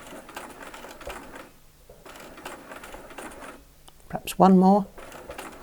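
A domestic sewing machine stitches the final stitches of an eight-point quilt star in short, rapid bursts, with someone talking quietly in between.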